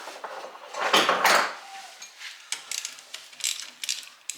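Ratchet wrench loosening a 10 mm bolt on a 2003 Mitsubishi Galant 2.4L 16V during a thermostat replacement, a short burst of ratcheting clicks close by followed by lighter metallic tool clatter.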